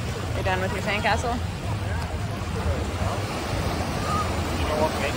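Ocean surf washes steadily onto the sand at Chesapeake Beach, Virginia, a continuous broadband roar with some wind buffeting the microphone, while family members talk over it.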